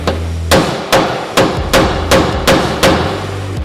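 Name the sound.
punching out a spinning frame rivet with a hammer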